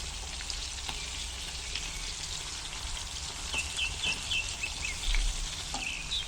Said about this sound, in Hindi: अब इसमें फ़िश को शैलो फ्राई कर लेना है।